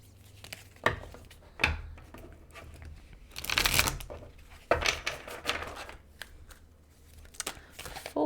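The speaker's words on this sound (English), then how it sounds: "Okay, I'm gonna pull a final card here." A tarot deck is shuffled and a single card pulled, making soft papery riffles, slides and a few sharp card taps, close and fairly quiet.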